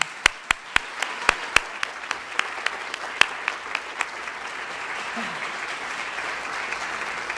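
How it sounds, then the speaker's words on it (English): An audience applauds after a performance at a spring colloquium. A dense wash of clapping carries a few sharp, loud nearby claps that thin out as the applause fades. "Let's give them a round of applause again."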